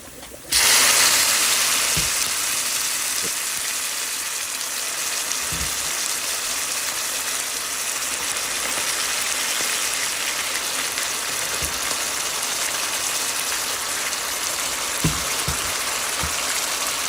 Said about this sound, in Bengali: চারটি রসুনের কোয়া কুচি এগুলোকে ফ্রাই করে নিচ্ছি এর মধ্যে এখন মাংসগুলোকে আমি বাগার দিব